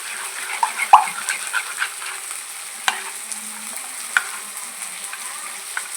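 Yogurt and gram flour batter goes into a pan of frying tomatoes, making a soft, close sizzle with scattered stirring clicks and a couple of sharper knocks against the pan.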